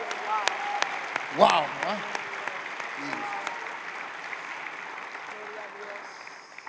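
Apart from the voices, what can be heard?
audience applause for Christ at Christmas service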